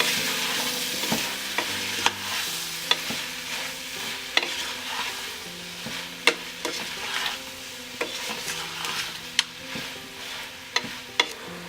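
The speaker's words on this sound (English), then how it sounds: "Now we've sauteed the shrimp with the tomatoes and everything else for about 3 minutes" Shrimp and tomatoes cook in a pan with a low, steady sizzle while a utensil stirs them, giving repeated sharp scrapes and taps against the pan at irregular intervals.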